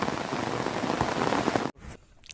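Heavy rain falls steadily in a jungle, a dense continuous hiss of drops on leaves and surfaces that cuts off abruptly near the end, leaving only faint drips.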